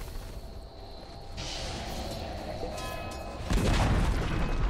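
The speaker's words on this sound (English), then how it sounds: "Dire's bottom tower has fallen." A tower collapsing in Dota 2, with a muffled boom and crumbling rumble rising near the end over steady game ambience and scattered combat noises, fairly quiet overall.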